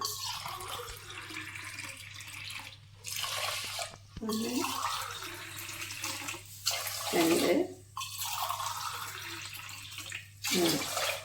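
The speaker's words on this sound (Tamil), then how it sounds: "இப்போ தண்ணி சேர்த்துக்கலாம்." Water is poured from a glass into a pot of washed rice and lentils for pongal, several steady splashing pours separated by brief pauses, close by, with a voice counting between them.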